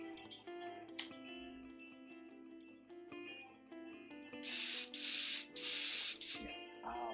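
An airbrush sprays paint in several short hissing bursts, fairly close and clear, over a quiet background of music.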